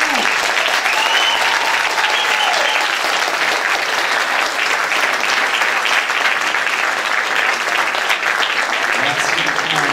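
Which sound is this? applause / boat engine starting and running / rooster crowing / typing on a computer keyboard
applause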